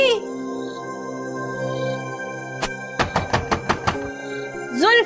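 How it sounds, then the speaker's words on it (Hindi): Knocking on a door in a drama scene: a burst of about seven quick, loud raps near the middle, with a single knock before it, over a steady background tone. "जुल्फी के बच्चे, दरवाजा खोल।"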